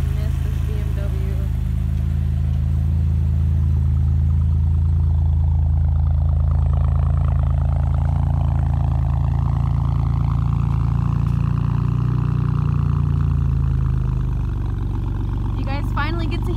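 A powerful BMW M5 engine rumbles steadily and deeply for the whole stretch, its tone swelling and easing slightly as if revved, close and loud.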